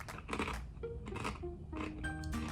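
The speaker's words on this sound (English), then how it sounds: "How's that taste? Very crunchy." Crunchy miso butter corn potato sticks from a Japanese 7-Eleven are bitten and chewed up close, giving several sharp, dry crunches in quick succession with no talking.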